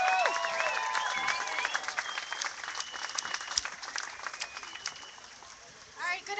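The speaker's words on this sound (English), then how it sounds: "So please give her a big round of applause." Outdoor crowd at a March Against Monsanto rally in Orlando applauding a speaker, scattered claps and some cheering that gradually thin out, then quiet with a few faint voices near the end.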